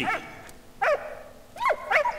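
A dog in the World War I video game Valiant Hearts: The Great War gives a handful of short, close yips and barks, spaced unevenly over a quiet game background.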